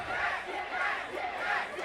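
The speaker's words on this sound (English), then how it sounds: "Crowd shouting for them to kiss." A wrestling arena crowd shouts in loud rhythmic waves, a dense chanting roar of many voices at a three-way match, heard from within the audience.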